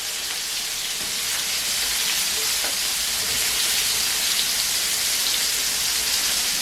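Chopped onion sizzling loudly in a hot pan with shrimp and langoustines for a Gandía-style fideuà, a steady close hiss and crackle throughout.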